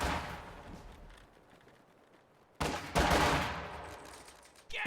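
Battle sounds from a strategy video game: a muffled blast fades into quiet, then sharp bursts of gunfire and a grenade explosion hit loud and close in quick succession.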